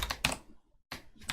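Typing on a computer keyboard during a Unity coding session: two quick bursts of close, crisp key clicks separated by a short silence, heard alone.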